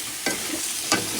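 Vegetables including potato, radish and turnip being stirred and sautéed in a pan, two distinct scraping strokes of a utensil over a constant background sizzle, close and unaccompanied by talk.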